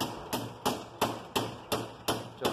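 Hammer tapping a metal rod down into a homemade snare stand: eight sharp, evenly spaced strikes about a third of a second apart, close and clear with no talking.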